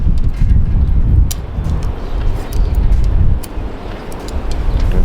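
Strong storm wind buffeting the microphone outdoors during CB base antenna assembly, a loud continuous low rumble with gusty swells and a few sharp knocks, no clear speech.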